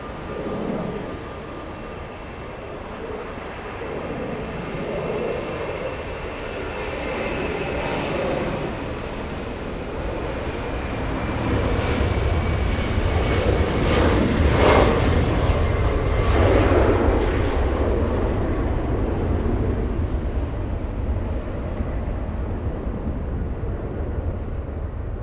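A jet airliner departing LAX roars down the runway for a Delta flight to Atlanta, a broad engine rumble that swells louder and fuller midway and holds steady as it climbs out, with no talk.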